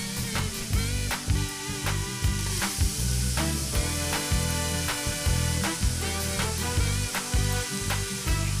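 Grated onion and garlic fry in butter in a pan, giving a steady, dense sizzle at close range with faint clinks of stirring throughout.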